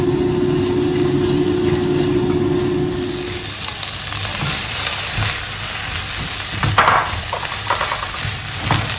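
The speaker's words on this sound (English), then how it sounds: "just a stir fry, you toss it in the pan" Vegetables are stir-fried and tossed in a pan while cooking akpele with grilled tilapia, giving a steady loud sizzle. A low droning hum under the first few seconds fades out, leaving scattered scrapes and clatters of tossing over the frying.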